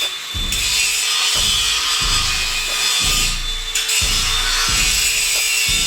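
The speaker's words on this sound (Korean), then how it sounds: "다음 작업으로 시공될 빔을 재단해주고 연마 작업을 진행." A steel H-beam is cut and ground on a construction site, with harsh continuous high-pitched grinding broken by several rhythmic low thumps and shifts in pressure, loud and close.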